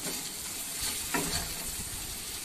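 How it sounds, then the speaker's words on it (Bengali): Spice paste (masala) for prawn malai curry sautéing in hot oil, a steady close sizzle broken by a brief scrape of stirring midway, with no voices. "এই যে মশলাটা দেখো কষানো হয়ে গেছে, তো মশলা তেল ছেড়ে দিয়েছে।"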